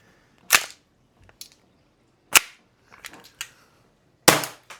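AAP-01 gas airsoft pistol fitted with an MP5 magazine firing, three sharp loud cracks spaced about two seconds apart with small mechanical clicks and rattles between them.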